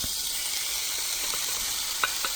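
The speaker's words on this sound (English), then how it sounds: "Once the oil is hot, add the beef." Beef slices sizzling in hot oil in a pan, heard as a constant bright crackle with a couple of faint utensil taps near the end.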